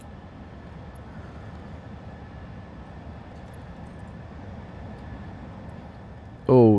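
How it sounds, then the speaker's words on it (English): Drones flying in the Satisfactory factory-building game (Update 8) give off a steady, low mechanical hum and whir that holds evenly throughout, broken near the end by a brief loud burst. "these drones are making it quite noisy for me"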